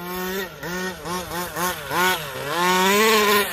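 Petrol Losi 5ive large-scale RC car engine revving hard at an RC track, a loud buzzing two-stroke whine that rises and falls in quick throttle bursts, then holds a higher, sustained pitch near the end.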